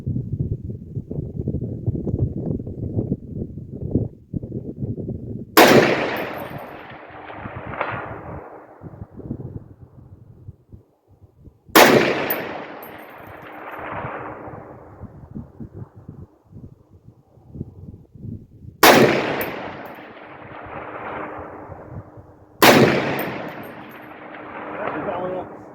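A SCAR 17S rifle fired at a 550-yard target outdoors: four sharp, loud gunshots spaced several seconds apart, each with a long rolling echo, over wind rumble.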